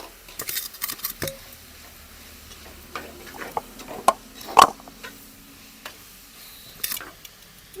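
Tomatoes stirred in a cooking pot give sparse scraping clicks and light knocks of a spoon against the pot, quiet and intermittent over a faint background hiss.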